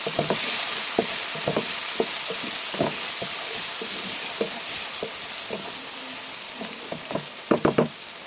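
Vegetables and spices sautéing in a pan for a simple vegetable khichuri, a steady soft sizzle broken by repeated sharp clinks and scrapes of stirring, louder in a quick cluster near the end.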